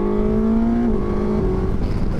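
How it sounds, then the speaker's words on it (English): A Suzuki GSX-S1000 GX motorcycle engine at full throttle in fourth gear, a loud sustained howl whose pitch drops in steps through quick downshifts, with no voices. "So I was saying, full throttle downshifts."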